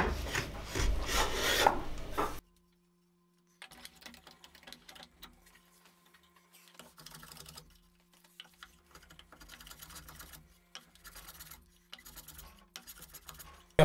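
A hand plane shaves wood while a ukulele is being built, giving a burst of loud rasping at the start, a pause, then a long series of quieter, irregular scraping strokes over a faint steady hum.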